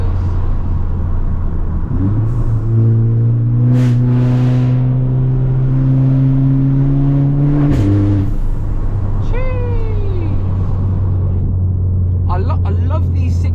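Volkswagen Scirocco engine revving hard on a 60 road, a loud rising growl that climbs in pitch, drops off, then climbs again, over constant road rumble, with some talking in the cabin.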